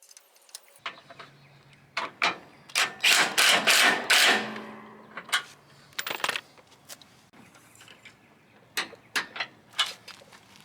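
A socket wrench works on the deck wheel bolts of a Cub Cadet riding lawn mower, giving close metallic clicks and a burst of rapid ratcheting, followed by scattered knocks and clanks.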